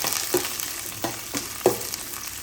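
Small onions sautéing in hot oil for a village-style Tamil fish curry, a steady soft sizzle broken by a few sharp stirring scrapes and knocks, close and fairly quiet with no voices.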